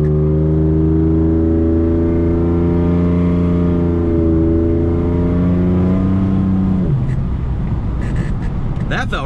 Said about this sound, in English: Let's give it about half throttle.